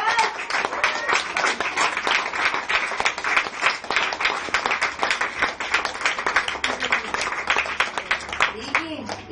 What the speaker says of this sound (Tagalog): At saan ang palakpak para sa Diyos?